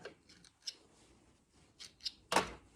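Scissors snipping sewing threads after a seam on a sewing machine, a few light ticks followed by one crisp, close cut in a quiet room.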